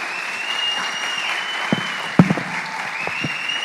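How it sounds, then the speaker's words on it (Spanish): Congregation applause during a Sunday church service, a steady wash of many hands clapping that fills the space evenly, with a few sharper isolated claps and thumps standing out near the end. "Recíbanlo con un aplauso, por favor."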